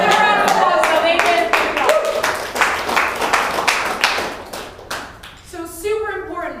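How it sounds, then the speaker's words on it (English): An audience claps during a presentation, sharp handclaps swelling into a loud burst of applause that fades, with a voice speaking again at the end. "Give them a round of applause"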